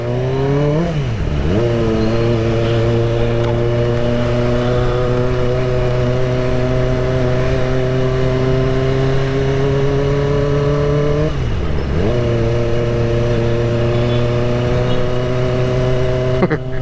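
Kawasaki ZX25R motorcycle cruising in fourth gear, its high-pitched four-cylinder engine holding a steady loud drone with two brief dips in revs, likely gear or throttle changes, under constant wind rush.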